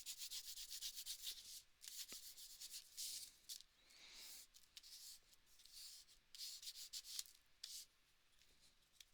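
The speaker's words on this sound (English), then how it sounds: "We're gonna go ahead and burnish this down." A card-making piece is burnished down by hand, giving quiet, steady rubbing strokes that repeat in short bursts with brief pauses between them.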